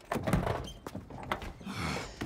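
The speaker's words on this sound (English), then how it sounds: "Open the door." A door with a push button under its handle is unlatched and opened in a film fight scene. Muted thunks and a mechanical clunk sound over a low background rumble, with no speech.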